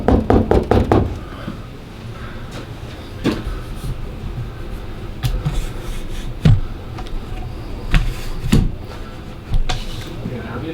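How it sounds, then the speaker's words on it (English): Quick knocks rap on an office door in a county commissioner's office. A cluster of them comes first, followed by scattered single knocks and thumps over steady background noise. Speech can be heard at points. "Knock softly on the door."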